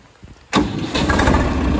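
Tractor engine starting: a quiet rattle, then a sudden loud crank catching at once into a steady, rough, near diesel idle, with no talk.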